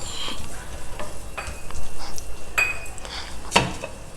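Tomatoes and green peas being stir fried in a pan for tomato poha, with a spatula scraping and clinking against the metal over a soft sizzle, plus a sharper clink near the end.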